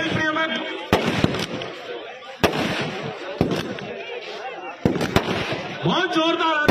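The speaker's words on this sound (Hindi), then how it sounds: "बहुत जोरदार आतिशबाजी" Fireworks burst loudly at a cricket ground during a celebration, several sharp booming cracks spaced a second or two apart over a crowded background with voices shouting.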